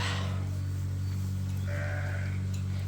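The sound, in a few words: purebred Dorset sheep bleating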